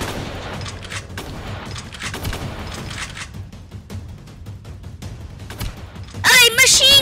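Gunfire from a war simulator video game, with bursts of shots and booms heard under almost continuous talking, then a louder, sustained burst near the end.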